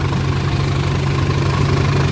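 A Sonalika DI 42 RX tractor diesel engine idles in a field, a steady, close, low throbbing rumble with no voices.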